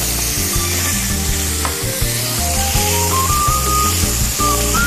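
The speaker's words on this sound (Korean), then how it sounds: "이거 볶으면서 돼지고기 얼른 넣고요" Pork, minced garlic and shrimp stir-fried in a wok for jjamppong give a loud, steady sizzle with repeated clanks and scrapes of stirring, while a rising whine runs beneath and no one speaks.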